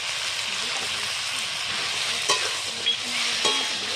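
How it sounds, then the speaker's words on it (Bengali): Ginger and cumin paste hits frying vegetables in a pan for a thin fish curry, giving a steady close sizzle with a few louder bursts and stirring scrapes. "এবার আমি আদা জিরে বাটাটা দিয়ে দিচ্ছি"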